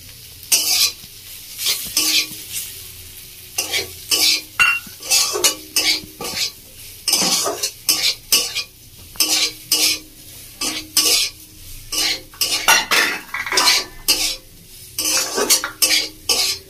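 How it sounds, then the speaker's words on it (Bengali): A utensil scrapes and clatters against a pan as fried spice mix is stirred for egg pakoda. The bursts come in quick, irregular strokes over a faint sizzle, close and clear, with no voices. "বন্ধুরা মশলাটা দিয়ে বেশিক্ষণ নাড়াচাড়া করবো না"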